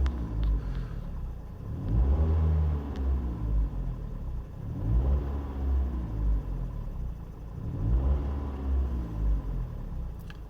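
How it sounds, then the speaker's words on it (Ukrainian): A Kia Carens 3 engine revs under repeated throttle blips, three rising and falling surges about three seconds apart over a steady idle rumble, close and fairly loud. "Трохи газуємо."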